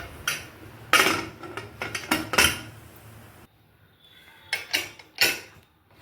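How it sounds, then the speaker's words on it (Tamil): A pressure cooker lid being closed, a string of sharp metallic clanks and scrapes in uneven bursts with a short pause, close and fairly quiet. "இப்போ நான் மூடிட போகிறேன் குக்கரை"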